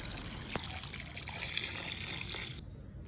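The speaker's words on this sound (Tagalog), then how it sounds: "Isalang sa kaldero ang karne at lagyan ng katamtamang tubig." Water gushes steadily from a tap into a cooking pot holding meat for a couple of seconds, with a faint clunk early on, before the flow stops abruptly.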